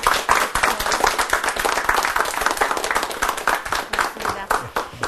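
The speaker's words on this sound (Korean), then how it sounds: "큰 박수로 맞아주시기 바랍니다." An audience breaks into steady, sustained clapping to welcome a guest at a Korean military leadership talk, a dense patter of many hands that continues throughout.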